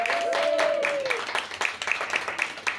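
Audience applause for the hosts at a literary tea event, a steady wash of clapping that thins into scattered claps toward the end, with a brief tonal sweep early on.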